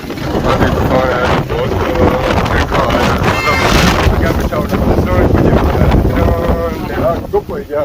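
Storm wind buffets loudly and continuously against the microphone in gusty surges, with rushing roar throughout and voices talking beneath it.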